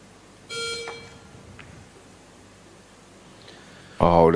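A short electronic beep sounds once during a professional pool match in a quiet hall, followed moments later by loud commentary.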